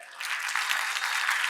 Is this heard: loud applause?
yes